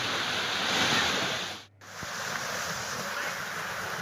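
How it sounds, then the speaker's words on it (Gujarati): Rushing floodwater surges through a swollen river during heavy rain in Gujarat, a steady broadband roar like heavy surf that briefly dips near the middle before resuming, with no voices. "નદીમાં ઘોડાપૂર આવતાની સ્થિતિ, પાણીનો ધસમસતો પ્રવાહ"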